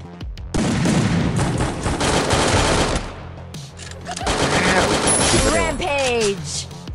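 Rapid automatic gunfire bursts loudly in the Free Fire battle-royale game, two long dense volleys separated by a short pause, followed by sweeping whooshing game effects, with a player talking over the action.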